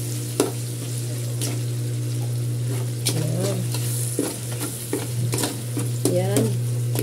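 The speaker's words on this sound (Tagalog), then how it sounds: "Sawa natin, baka matutong yung ilalim." Spaghetti sizzles steadily as it fries in a pan under a constant hum, with a utensil stirring and scraping in sharp intermittent strokes close by.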